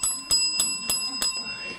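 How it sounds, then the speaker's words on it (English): A small bell struck five times in an even, steady rhythm, each strike bright and ringing with a short decay, fairly close, in a quiet room during a spiritual class. "I'll give you 3 bells."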